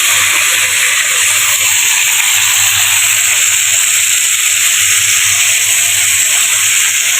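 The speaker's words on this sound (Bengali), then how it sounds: "এখানে মাছটা ভাজা হচ্ছে।" A pangas fish head fries in hot oil in a pan, making a loud, constant, close hiss and spatter that holds steady throughout with no talk.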